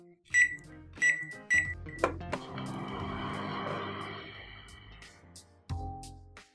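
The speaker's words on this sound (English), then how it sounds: "I open the door of the microwave, I set the time for the machine to heat my dinner" A microwave oven heating dinner: three sharp beeps from the keypad as the time is set, then a short click and a steady humming run for several seconds, ending with a thud as the door opens or closes.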